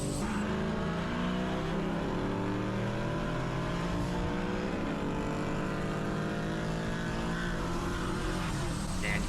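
A built 4.6 two-valve Ford Mustang pulls hard through third gear on a drag strip, its loud, steady engine roar climbing in pitch with rising harmonics and brief shift-like dips along the way.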